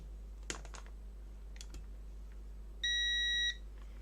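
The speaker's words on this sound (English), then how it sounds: "Let's get the meter into the beeping mode." A single sustained electronic beep from a multimeter in continuity mode, lasting under a second, preceded by a few faint clicks and handling taps in a quiet workspace while connector cables are checked.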